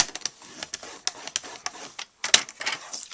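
A paper trimmer scores a sheet of cardstock, making a run of quick, close scraping and clicking strokes with brief pauses between them, and no voices.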